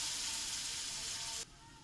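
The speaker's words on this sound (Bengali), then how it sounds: "পেঁয়াজের সঙ্গে একটা কাঁচা লঙ্কা অনেক কেটে দেওয়া হয়েছে, এর সঙ্গে ভাজা হয়ে যাবে" Chopped onion and green chilli sizzling in hot oil in a pan, a loud steady hiss that cuts off abruptly near the end, leaving a quieter background.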